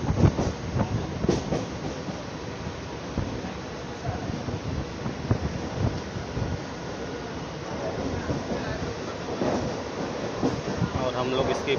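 A Mumbai local train runs past Parel junction, its wheels rumbling and clattering steadily on the rails from close by, with wind buffeting throughout and faint voices now and then.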